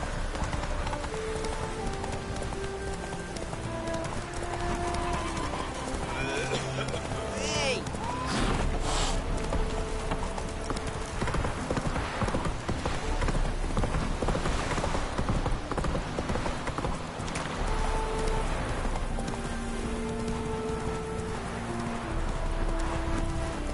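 Roach, the horse in The Witcher 3, gallops with steady rapid clip-clop hoofbeats that run throughout, close and fairly loud, with game music and a voice talking over them.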